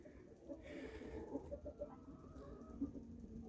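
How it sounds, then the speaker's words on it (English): Chickens cluck and murmur inside a wooden coop housing about thirty birds, with short soft calls scattered over a quiet background and one or two slightly louder clucks. "We got about 30 chickens here"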